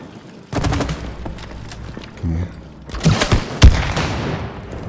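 Gunfire at a shooting range in the video game It Takes Two, sharp bursts of shots and thumps in irregular clusters, loud and close, with a quieter gap in between.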